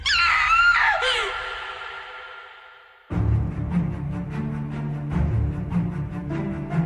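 A loud, close scream from a character in a superhero audio drama, rising and then trailing off into a gasp, followed after a short silence by dramatic music.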